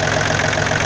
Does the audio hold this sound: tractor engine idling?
yes